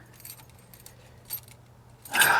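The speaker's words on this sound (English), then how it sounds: "We got your Chrysler keys right here, guys." A set of Chrysler car keys jingles in a hand, with soft intermittent metallic clinks that end in a brighter, louder jangling shake.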